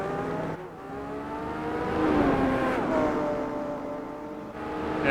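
A race car engine held at full throttle in Gran Turismo 4, a steady loud whine whose pitch climbs and dips through gear changes and cornering, continuous for about five seconds with no talking.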